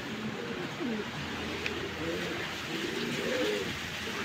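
A pigeon being readied for a pigeon show gives soft, low cooing calls. The coos repeat gently over a few seconds, close by, against a faint background hum.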